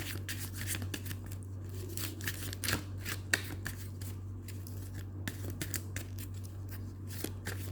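Tarot cards being shuffled by hand, a steady series of soft riffling and slapping snaps close to the microphone over a constant low electrical hum, with no talking.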